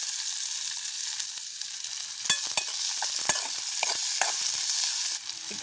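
Ingredients sautéing in a pan for a village-style vegetable curry, with a steady soft sizzle broken by several sharp scrapes and knocks of a stirring spoon, close by and with no talking.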